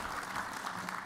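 A short burst of crowd applause at a keynote address, dense and steady throughout.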